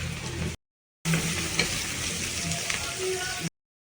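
Onions sizzle in hot oil with a little salt for prawn biryani, a close, even frying hiss stirred now and then and cut by a short silent gap.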